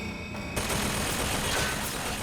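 Turret gunfire in BioShock Infinite: a steady, dense stream of rapid automatic shots begins abruptly after a brief lead-in and continues loudly without pause.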